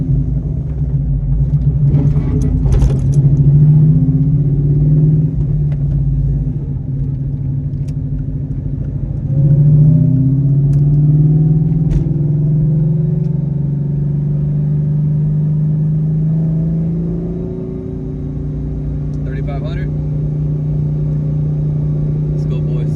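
A Ford Coyote V8-swapped car running E85 fuel pulls hard to about 7,500 rpm, its engine drone rising in pitch under steady load with rumbling exhaust, while someone talks over it inside the cabin.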